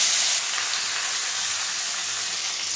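Koi fish sizzling as they go into hot oil seasoned with a little turmeric, a steady close frying hiss that swells briefly at the start and then holds on evenly.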